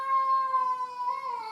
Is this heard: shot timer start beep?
no